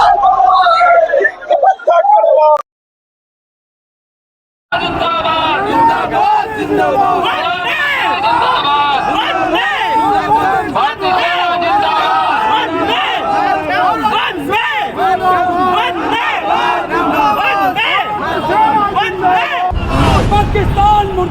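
A dense crowd at a Tiranga march in Lucknow roars and chants slogans in a loud, continuous wash of voices, broken by a brief silent gap near the start.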